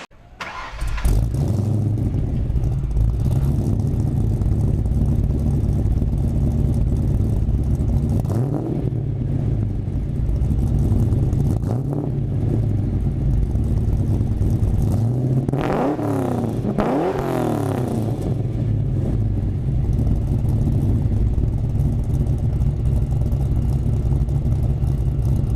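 Car with aftermarket mufflers starting up and idling, a deep loud rumble held throughout with a couple of sharp revs partway through, close to the exhaust.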